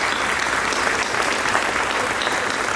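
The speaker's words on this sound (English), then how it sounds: "let's please give a great round of applause to Mati and Johnny" An outdoor crowd on a wharf at an award ceremony gives a warm round of applause for Mati and Johnny, with steady, fairly close clapping sustained throughout and a few faint voices mixed in.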